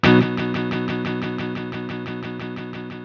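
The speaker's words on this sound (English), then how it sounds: "it's a simple kind of repetitive on the 8th note beat, panning starting from center and then going right to left" A Strymon TimeLine MX delay pedal on its Even Diverge preset sends an instrument's sustained chord through steady repeats on the eighth-note beat, the repeats panning from center out to either side. The sound is loud and alone, fading gently over the clip.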